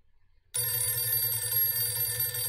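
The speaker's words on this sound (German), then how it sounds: "Und am 14. September klingelt erstmal direkt das Telefon" A telephone rings in the video game For the People, starting abruptly after a short silence and then sounding steadily as a continuous electronic bell tone, clear and close.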